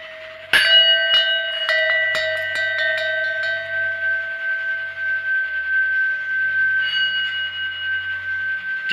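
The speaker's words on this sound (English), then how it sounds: "You want me to ring the bell too?" A bell is struck and then rung repeatedly in a loose, uneven series of metallic strikes over a long sustained ringing tone, close and fairly loud, with faint low background sound beneath.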